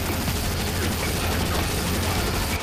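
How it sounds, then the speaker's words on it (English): Dense, continuous gunfire from an Unreal Tournament 3 Warfare match on the Floodgate map, rapid overlapping shots forming a loud, steady barrage throughout with no pauses. "I'll just shoot this guy down instead"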